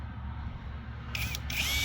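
A battery-powered drill in drill mode whirs steadily while boring pilot holes, a loud close motor hum with a brief higher whine partway through.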